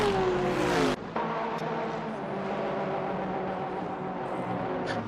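GT3 race cars at Daytona, a leading Lexus chased by a Porsche 992 GT3R, droning with a steady sustained engine roar and a high whine that drops away near the start, heard at moderate distance without speech.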